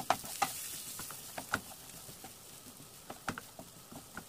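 Mashed potato with roasted cumin powder being sautéed in a pan, with a soft background sizzle and scattered spatula scrapes and taps coming in irregular bursts.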